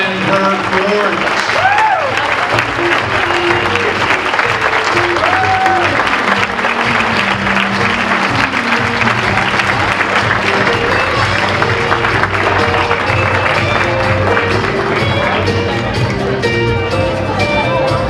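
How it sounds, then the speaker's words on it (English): Sustained applause from a crowd at a coronation ball for a shad derby queen and her court in Windsor, loud and steady throughout with cheers and chatter mixed in. "How about a round of applause for the Queen and her court?"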